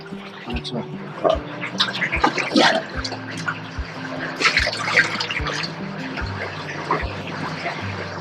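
Water poured into a large cooking pot of misal at a 70-year-old misal eatery in Karjat. A rushing, splashing pour runs for several seconds over a steady background with repeated low thumps.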